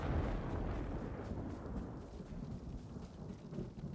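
Thunderstorm in the video game Ghost of Tsushima: a heavy, continuous roar of rain with deep rumbling thunder, steady and loud throughout with no voices.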